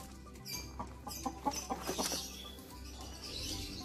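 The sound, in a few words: Arab breed chickens clucking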